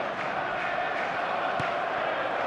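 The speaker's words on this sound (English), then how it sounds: "the crowd level has gone up a notch or 10" Stadium crowd noise from an eFootball soccer video game forms a steady, loud, broad roar of many voices throughout, with one brief thump partway through.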